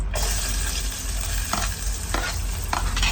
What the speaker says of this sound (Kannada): ಈರುಳ್ಳಿ ಮೆಣಸಿನ್ಕಾಯಿ ಹಾಕಿ ಚೆನ್ನಾಗಿ ಸ್ವಲ್ಪ ರೋಸ್ಟ್ ಮಾಡಿ